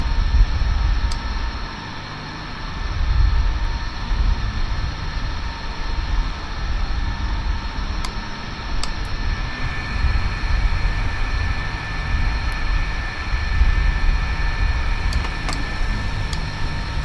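MD-80 airliner number 1 engine spooling up in Microsoft Flight Simulator 2020, a steady loud mechanical whine and rumble with sustained tones and a low swell early on, a few faint clicks scattered through, no talking.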